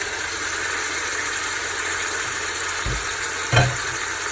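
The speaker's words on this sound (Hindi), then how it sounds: "अब हम इसमें चिकन शामिल कर देंगे" Chicken pieces dropped into a hot pot for haleem, a loud, steady frying sizzle running throughout, with a brief clatter of a utensil near the end.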